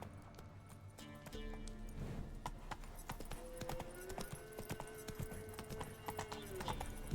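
Horse galloping in The Witcher 3 video game, a steady, fairly close clip-clop of hooves running continuously throughout, with a brief neigh-like tone and a soft voice appearing faintly in places.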